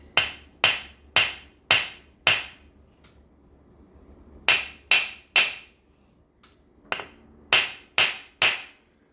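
Steel hammer tapping a crank bearing into place on a Husqvarna 55 chainsaw, sharp ringing metallic knocks in two bursts of five and four, then another group of three after a short pause and a softer knock.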